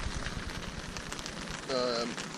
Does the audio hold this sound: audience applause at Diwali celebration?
no